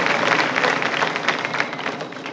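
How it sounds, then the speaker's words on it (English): Audience applause at a Gompers Preparatory Academy senior convocation, a dense wash of many hands clapping, loud at first and gradually tapering over a couple of seconds. "Let's give Seth another round of applause."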